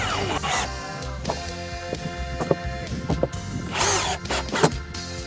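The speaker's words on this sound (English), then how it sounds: "I'll just screw them to this face from the underside, like this." A power drill driving screws up into a board from underneath while an aluminum handrail is being installed, with whining motor bursts of varying pitch and short knocks and clatter between them.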